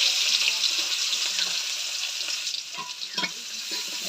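Cumin and chopped onion frying in a pan, a loud continuous close sizzle with occasional stirring clicks toward the end.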